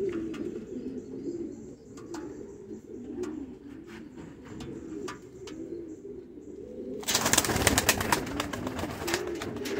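A Spanish Pouter pigeon cock at an outdoor pigeon show coos steadily, soft and low, with scattered chirps from other birds, and a louder rustling burst near the end.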